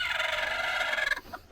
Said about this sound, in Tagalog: Tingnan niyo ito mga manok.